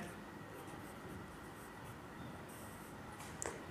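Pen or pencil writing in a children's maths workbook, a soft continuous scratching close by and quiet throughout, with a brief sharper tap near the end.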